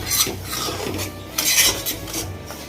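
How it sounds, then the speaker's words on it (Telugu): Semolina stirred and roasted in ghee in a pan, with steady scraping and clinking of a spoon against the metal pan, close and continuous with brief louder strokes. "మనము నెయ్యి వేసాం కదండి, కొంచెం రవ్వ పోసేసుకుని వేయించుకుందాం"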